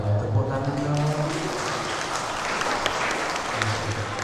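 Applause from a mosque audience at a Maulid Nabi gathering, a steady broadband clatter of many hands lasting the whole moment, with a low hum and some voices underneath.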